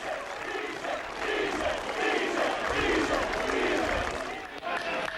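Crowd at a rugby league match, a broad sustained roar of cheering and clapping that swells and ebbs over several seconds, with a commentator talking over it.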